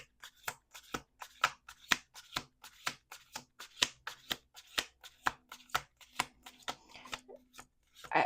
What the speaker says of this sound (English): Okay, we're doing 2 more shuffles.